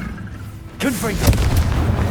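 A single Confringo fire spell from Hogwarts Legacy bursts with a sudden loud boom midway, following a short spoken call, with rumbling tail afterward.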